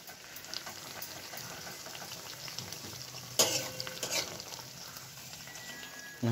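Papad frying in hot oil in a pan, with a soft continuous sizzle, faint scraping and a couple of sharper utensil clinks, close but quiet, with no talk.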